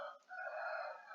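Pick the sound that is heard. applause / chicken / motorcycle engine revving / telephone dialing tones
chicken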